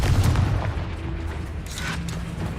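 The Confringo blasting spell explodes in the video game Hogwarts Legacy, a heavy low boom at the start followed by rumbling decay and scattered debris-like crackles, loud and close.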